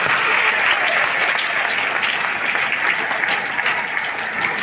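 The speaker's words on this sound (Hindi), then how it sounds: "जोरदार तालियां आप सभी के लिए" Sustained audience applause fills a DXN health training event in Fatuha, Bihar: dense, steady clapping from a large crowd, loud and close, with no pauses.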